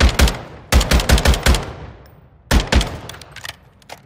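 Video game gun firing in rapid close bursts, loud sharp automatic shots in quick groups of several rounds with brief gaps between volleys.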